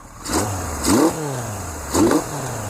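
Kawasaki KZ motorcycle engine running close by, its idle note rising and falling through two blips of throttle, with faint irregular pops breaking up the steady exhaust drone.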